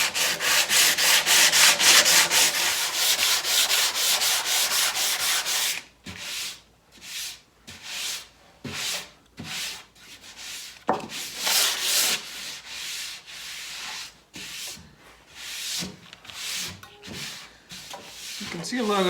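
Sandpaper rubs by hand along the wooden edges of a console table, first a dense continuous scrubbing, then separate short back-and-forth strokes, loud and close.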